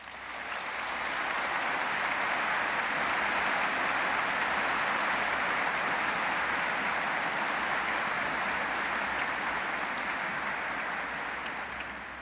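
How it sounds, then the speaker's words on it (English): Sustained applause from a large audience at a Liverpool John Moores University graduation ceremony, a dense, even roar of clapping that swells quickly and holds steady before easing slightly at the end. "I could ask you for a round of applause for all those that have ensured that you're here with us this afternoon"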